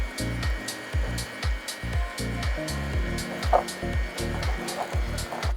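Electric hand mixer creaming butter, brown sugar and white sugar together for soft pumpkin sugar cookie dough; a steady motor whir with a pulsing, rhythmic grind as the beaters work the mixture close up.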